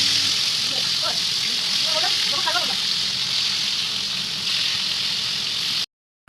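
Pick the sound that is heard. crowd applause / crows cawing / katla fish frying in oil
katla fish frying in oil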